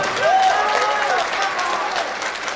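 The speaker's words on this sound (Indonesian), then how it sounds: "Tepuk tangan untuk kita itu semua." Audience applause at a large Indonesian silat gathering, a dense steady wash of clapping across the whole stretch with faint crowd murmur underneath.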